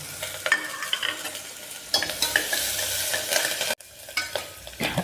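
Onion, green chili and curry leaves sauté in oil after mustard seeds have popped, for a bottle gourd and tomato chutney. The sizzle is close and steady, with frequent spoon scrapes and a brief break near the end.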